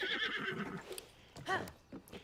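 A horse neighs and whinnies in The Legend of Zelda: Tears of the Kingdom, a couple of short bursts with some hoof clip-clop, heard alone at moderate loudness.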